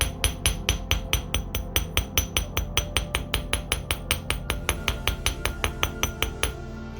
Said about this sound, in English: So I flip it and then I hammer the back.